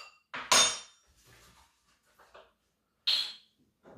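Ingredients being mixed in a bowl, several sharp clinks and knocks of a utensil against the bowl in irregular bursts with quiet gaps between, close and fairly loud, no talking.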